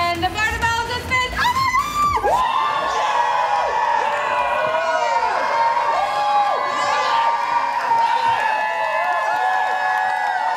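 Crowd cheering and whooping at a Pitch Perfect 2 riff-off rehearsal, opening with a burst of rhythmic clapping and shouts before settling into a steady, loud roar of excited voices that persists throughout.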